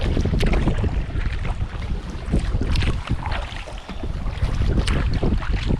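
Wind on open water while kayaking, a loud continuous rush buffeting the microphone with gusty surges and water sloshing against the boat, and no voices.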